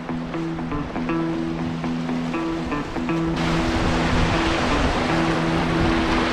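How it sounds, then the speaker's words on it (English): Whitewater rapids on a spring-flooded river rush and churn around a solo paddler at nightfall. The roar swells noticeably louder midway, over a faint steady tonal hum. "we're getting into some white water."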